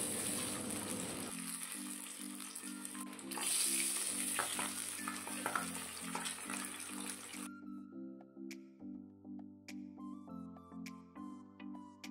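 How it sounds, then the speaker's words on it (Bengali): Pabda fish frying in hot mustard oil in a pan, a soft, continuous sizzle that thins out partway through, with rhythmic background music throughout. "একটি পাত্রে কিছুটা সর্ষের তেল গরম করে নিয়ে একে একে মাছগুলো হালকা লালচে করে ভেজে নিতে হবে"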